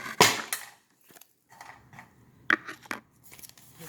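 A few sharp, close snaps and soft shuffling clicks as a deck of tarot cards is split and handled, with quiet pauses between.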